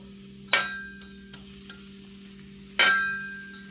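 Onions dropped onto a hot griddle for a pulled pork cheesesteak sizzle in two sharp, close bursts, with a faint steady hum between them.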